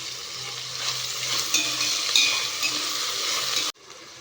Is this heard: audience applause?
no